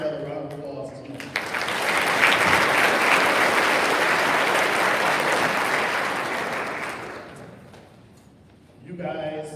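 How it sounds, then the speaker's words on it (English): A morning audience at a charity event gives a sustained round of applause, swelling quickly to a dense roar of clapping that fades out gradually before a voice resumes speaking. "Can we just give Voices for Children organization and those who helped put this event together a round of applause this morning."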